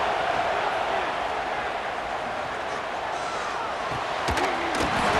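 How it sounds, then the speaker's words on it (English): A stadium crowd in EA Sports College Football 26 roars continuously as a dense, steady wall of cheering, loud and sustained throughout, with a few sharp thuds near the end. "This crowd, full throat, splitting the eardrums and letting them know it's going to be a long day."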